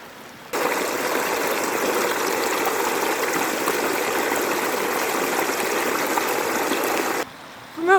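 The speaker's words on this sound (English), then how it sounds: "the sound of the trickling of the water, from what I understand, will attract the beaver to come and want to patch that up" Water trickling and gushing steadily through a gap in a broken beaver dam on off-grid land, a continuous close stream that starts abruptly and drops away near the end, with no talk.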